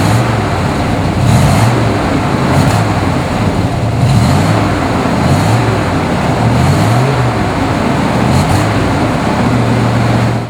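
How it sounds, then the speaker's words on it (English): A 1969 Chevy Camaro SS 396 with a big-block V8 rumbles steadily at idle, a loud, deep exhaust burble with a few swells of revving, heard close and alone without talk. "check out the exhaust."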